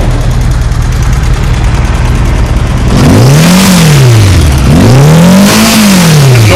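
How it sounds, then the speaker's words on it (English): Vintage Honda GoldWing motorcycle engine running in a steady, smooth idle, then two swelling revs that rise and fall back, loud and close with a constant low rumble underneath and no talking. "It seems to have pretty good compression. I have not done a compression test, but it's just idling nice and smooth."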